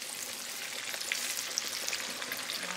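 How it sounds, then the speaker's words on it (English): Steady, loud sizzling and crackling of plantains frying in hot oil, continuous with small popping bursts throughout. "We're getting to the last step, which is frying our banana. So the oil is nice and hot."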